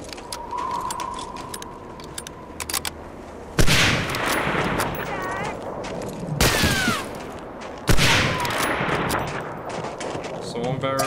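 Enemy gunfire in Medal of Honor: Allied Assault, sharp loud bursts of shots cracking near the player in several volleys, with a voice speaking between them.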